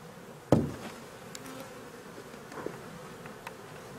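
Honeybees in an opened, queenless hive give off a soft, steady buzz with scattered individual flybys. A sharp knock near the start sounds like handling of the hive box or frames.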